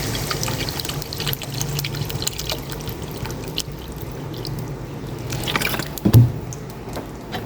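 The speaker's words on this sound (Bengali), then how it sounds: "তো ঝোলের পানি দিয়ে দিলাম" Broth water poured into a curry pot already holding potatoes and tomatoes gives a steady liquid pour and splash that runs for several seconds, with a short louder splash near the end, close by in a home kitchen.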